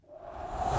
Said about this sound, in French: Donc c'est plus intéressant le whoosh pour des bruits de transition.